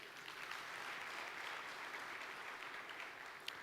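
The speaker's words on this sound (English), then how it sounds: "Let's give him one last round of applause." Sustained applause from an audience at an energy conference fills the room, even and moderately distant, with no voices over it.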